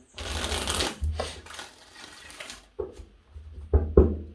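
Several rapid papery riffles of tarot cards being shuffled, in five short separate bursts with brief pauses between them, close by and fairly loud.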